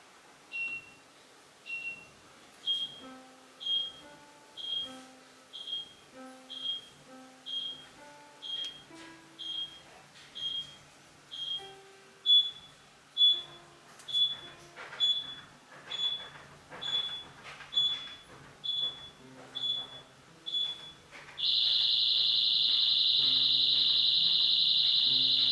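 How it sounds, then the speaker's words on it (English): A Sharp Cloud smart home security system siren pulses in a steady run of about one beep per second, then jumps to a loud, continuous piercing tone, with no one speaking. "that's the alert, it works, and the siren is actually beeping"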